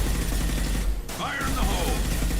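Light machine gun fire in a video game, heard as a dense, rapid burst of shots blended into a noisy game mix, with a brief dip before more effects and voices.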